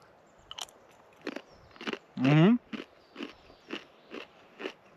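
Crisp crunching bites into freeze-dried cheese chips, one loud crackling bite followed by a steady series of shorter crunchy chews, close and with no talk.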